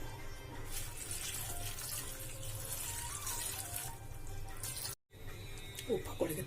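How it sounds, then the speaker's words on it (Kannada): Water pours steadily into a pressure cooker holding peas for a kuchugalu dish, a continuous splashing stream that breaks off briefly and is followed by light clinks. "ಇದಕ್ಕೂ ನೀರು ಹಾಕೋಣ"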